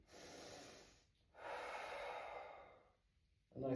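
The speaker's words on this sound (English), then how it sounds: "Breathing deep." Slow, deep breaths drawn during a seated desk stretch, two long airy inhales and exhales close to the mic, with a quiet pause between and a fresh breath starting at the end.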